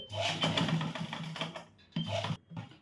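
A sewing machine stitching the front panel of a katori blouse, two bursts of rapid rhythmic mechanical whirring with a brief pause between, close and fairly loud.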